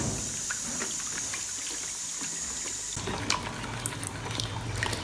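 Plain room-temperature water poured into a packet of haleem mix while making a paste, a continuous splashing stream that grows louder and brighter partway through.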